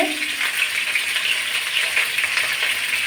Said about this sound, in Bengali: পটলগুলো নেড়ে করে ভালো করে ভাজি করে নেব